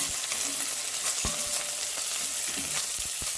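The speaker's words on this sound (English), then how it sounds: "go ahead and stir this around, and the pancetta will start to render" Pancetta sizzles loudly and steadily in a pan while being stirred, with scattered scrapes and taps of the utensil over the constant frying hiss.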